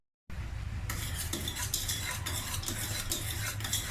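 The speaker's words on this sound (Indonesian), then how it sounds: "Sekarang kita campurkan dengan santannya ya guys." Boiling agar mixed with coconut milk is stirred in a pot with a utensil, giving a continuous close scraping, bubbling and sizzling sound with occasional clinks, and no talk.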